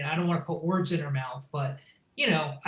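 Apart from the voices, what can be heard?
No distinct noise like a dog, phone or traffic.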